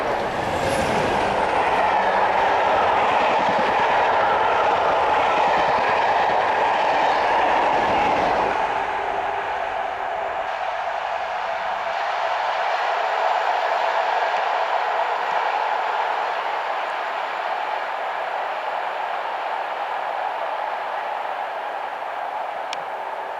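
Steam locomotive 60009 Union of South Africa, double-headed with diesel 47760 on a London Victoria to Weymouth rail tour, rumbles loudly past nearby, then the wagons roll on in a steady, fading rush.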